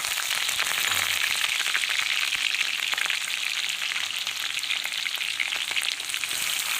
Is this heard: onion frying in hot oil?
yes